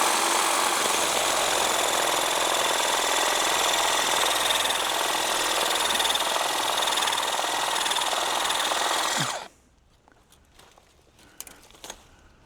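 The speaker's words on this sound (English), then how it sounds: "I don't think this hedge trimmer is going to cut it," A hedge trimmer held against a thick garden tree trunk runs with a loud, steady buzzing drone for about nine seconds, then cuts out, leaving faint rustles and small knocks.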